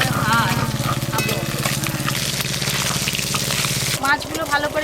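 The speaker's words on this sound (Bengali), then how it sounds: "ভালো করে কড়া করে ভাজ" Small river fish sizzle steadily in hot oil, a continuous close crackle and hiss that continues beneath a person talking.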